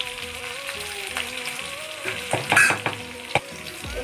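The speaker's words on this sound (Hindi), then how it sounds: "इस तरह से हमें जीरा को फ्राई कर लेना है थोड़ा ब्राउन कलर करना है" Cumin seeds sizzle in a hot pan with green chillies, a steady close crackle that swells into louder bursts and stirring clatter partway through.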